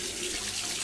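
Water sprayed onto a surface to imitate rain, heard as a steady close hiss of spray for under a second with no pauses.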